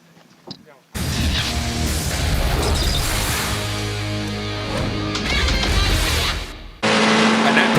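GT race cars running three wide into the first corner at Monza: a loud, dense roar of engines rising and surging together for several seconds, with a commentator talking over it.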